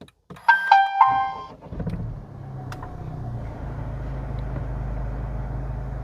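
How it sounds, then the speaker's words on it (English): A Honda Civic Type R engine cranks with a brief electronic chime, then settles into a low, steady idle rumble. "If you start up the engine,"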